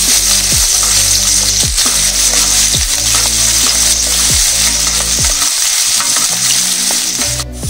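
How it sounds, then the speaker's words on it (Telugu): Garlic, white onion and green chillies fry in hot oil over a high flame, a loud continuous sizzle and crackle close by, broken by rhythmic scraping strokes of a spatula stirring the pan. "ఆయిల్ వేడైన తర్వాత వెల్లుల్లి, వైట్ ఆనియన్, పచ్చిమిర్చి వేసి కొద్దిసేపు ఫ్రై చేసుకుందాం."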